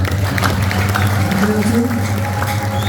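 Applause from a crowd at an ordination ceremony, a dense, steady clatter of clapping that fills the whole stretch alongside a low tonal hum of music or room sound.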